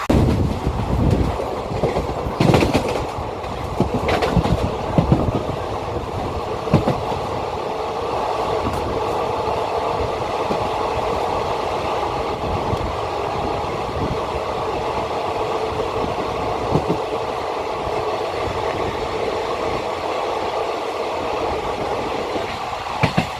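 The 19120 Somnath Ahmedabad Intercity Express runs on track between Rajkot and Wankaner, passing a small local station without stopping, with a loud, steady rumble and rattle of wheels and coaches throughout and no talking.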